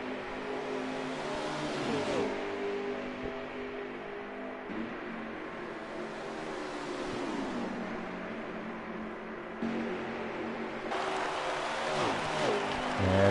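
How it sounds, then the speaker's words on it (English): Racing truck engines roar in the NASCAR Heat 5 video game during a Truck Series race at Homestead, a steady dense drone of several engines with shifting pitch sweeps as trucks run close together, no talk. "It looks like he's very content to run about 3 truck lengths behind Connor Brown and just keep him within sights"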